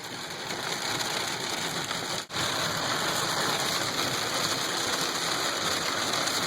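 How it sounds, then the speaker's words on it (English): Steady, dense storm rain hiss fills the whole clip, constant and fairly loud, heard from a car with a faint engine hum underneath and one brief dropout midway. "I really dread having to get out in this rain though. It's very wet."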